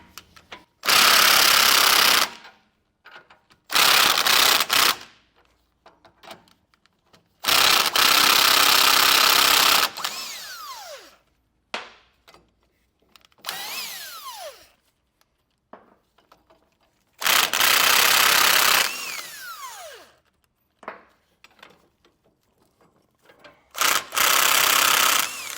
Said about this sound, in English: we have these 4 nuts on the bottom of our U-bolt. So go ahead and get these removed.